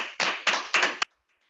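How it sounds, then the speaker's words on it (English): Clapping at a virtual charity annual meeting, a few loud close bursts of hand claps in quick succession that stop abruptly into near silence. "Give them a nice round of applause."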